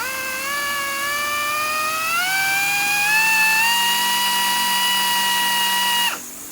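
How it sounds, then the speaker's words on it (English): Slow, steady whine of a drill bit working into a rivet hole on an aircraft rear spar and doubler, pitch gliding upward as it bites, running alone for about six seconds before cutting off abruptly. "So you put the drill bit into that hole, and you go very slow."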